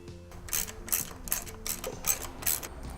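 A hand ratchet clicks steadily while loosening a bolt beneath the air filter housing of a Vulcan 750 motorcycle, about five short bursts of rapid metallic clicking, close and clear.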